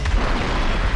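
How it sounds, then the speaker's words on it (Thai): A loud, deep explosion blast from War Thunder gameplay fills the moment with a dense rumbling roar that continues without letting up, with no talk over it. "แรงระเบิดน่ะ"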